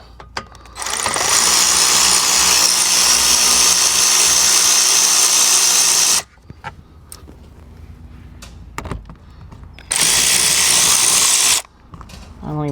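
A power tool removes 10 mm bolts on a Hyundai Palisade during an oil change. It gives a long, loud, steady whir, then a quiet gap with small clanks and handling noises, then a second shorter burst. It runs close and alone.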